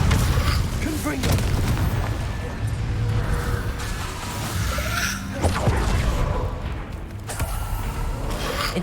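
Confringo explosion spells cast in the action game Hogwarts Legacy, heavy booms and crashing blasts over a rumbling combat din, loud and nearly continuous, with a voice speaking over the fighting.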